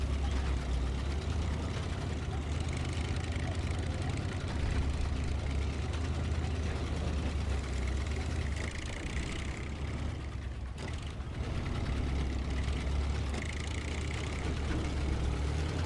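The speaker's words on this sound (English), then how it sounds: "if you listen to the engine and are familiar with it, it almost sounds very familiar to the Lodestar 1700 from the base game" Big Moose 3500 truck in the video game SnowRunner, its engine a steady low rumble that stays dense and unbroken throughout, with no clear revving and only a brief dip partway through.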